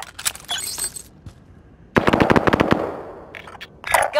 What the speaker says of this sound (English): Gunfire will alert you to an enemy's presence.